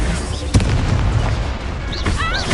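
A Confringo explosion spell in Hogwarts Legacy lands as one sharp boom amid loud, steady battle noise, followed by brief voice-like tones near the end.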